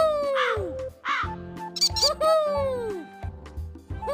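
Cartoon crows caw and squawk in a Peppa Pig dragon fight video game, with several bright squeaky calls in a row over the game's background music.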